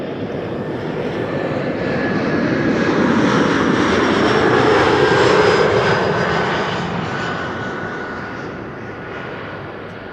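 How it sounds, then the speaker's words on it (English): A KLM Embraer 175 jet arriving at Amsterdam Schiphol Airport, a loud broad engine roar that swells as it passes close overhead around the middle, then fades as it moves away. "Next arrival, KLM flight 1056 arriving from Norwich, an Embraer"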